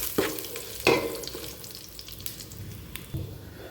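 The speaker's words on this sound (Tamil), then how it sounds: "இந்த ஸ்பைசஸ் எல்லாத்தையும் இந்த எண்ணெயில் ஒரு முறை நம்ம வதக்கி எடுத்துக்கலாம்" Whole spices sautéing in oil for chicken biryani, a soft sizzle punctuated by a few sharp spoon clanks against the pan, fairly quiet and without talk.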